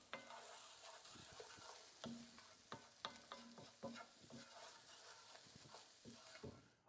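Onions and peppers sizzle steadily while frying in a pan, with repeated scraping and clacking stirs scattered throughout, close and alone.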